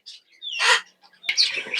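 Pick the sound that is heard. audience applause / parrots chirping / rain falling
parrots chirping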